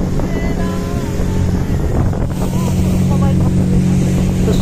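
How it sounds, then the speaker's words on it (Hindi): Cold wind buffets a microphone on a boat ride across a lake, mixed with a steady motor drone and faint voices and singing in the background. "तो यहाँ पर आप लोग आवाज़ सुन सकते हैं कितना एकदम ठंडा ठंडा हवा चल रहा था"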